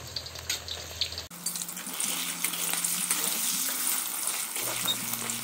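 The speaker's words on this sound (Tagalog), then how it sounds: "stir fry na natin ang minarinate natin na chicken kanina" Marinated chicken stir-frying in a pan, a continuous close sizzle with bursts of crackle as it is stirred, no talking.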